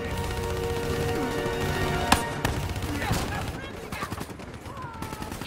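Gunfire rattles in Call of Duty 4: Modern Warfare in sustained automatic bursts with a sharp crack partway through, alongside other game sounds and a voice.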